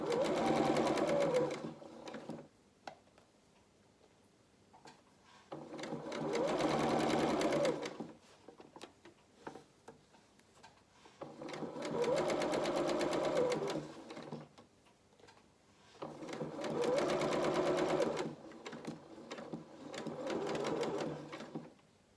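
A domestic sewing machine stitches fabric in four separate bursts of steady, rapid whirring, with pauses of near silence between each run.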